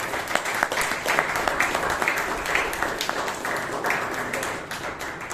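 Audience at a Bangalore Toastmasters club meeting gives a big round of applause, dense steady clapping from many hands filling the room for about five seconds before easing slightly at the end, with faint voices underneath.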